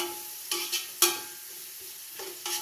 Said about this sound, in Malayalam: നല്ല ഇളക്കി കൊടുത്ത് സെറ്റാക്കിയിട്ട് ഇങ്ങനെ വറുത്തിട്ട് കോരിയിട്ടെടുക്കാം